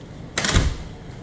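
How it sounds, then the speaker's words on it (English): Door fitted with an electric strike opening after a badge is scanned, a single sharp click and thud of the latch releasing, followed by a soft rattle, close by. "and then you open your door."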